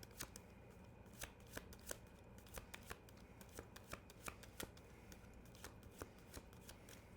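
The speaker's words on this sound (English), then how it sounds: "Let's finish this shuffle, though." Tarot cards being shuffled by hand, a steady run of crisp riffling slaps and flicks, close and fairly quiet, with no talking.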